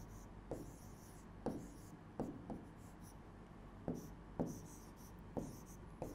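Writing on a board during a maths lesson on the number system, with faint, short scratchy strokes repeated about eight times in an uneven rhythm and little else audible.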